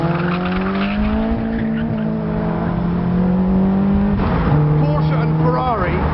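A Caterham Supersport R sports car drives at speed, its engine droning steadily and shifting pitch as it changes gear, with tyre noise and a voice talking over it.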